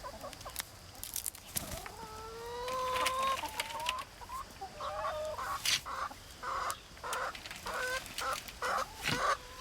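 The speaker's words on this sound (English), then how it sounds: "let the chickens do all of the sorting and kicking through themselves" Hens cluck and chatter close by while scratching and sorting through compost, making repeated short calls with rustling in between.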